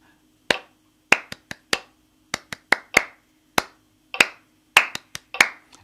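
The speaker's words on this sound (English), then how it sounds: "we're going to clap that for a minute" Sharp hand claps in an uneven rhythmic pattern, a dozen or so crisp claps with brief gaps, close and alone.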